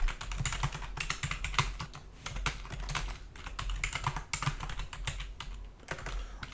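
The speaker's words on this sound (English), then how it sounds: "So I'll just type it out." Quick, uneven typing on a computer keyboard, with close, fairly quiet key clicks coming in bursts, no voice over it.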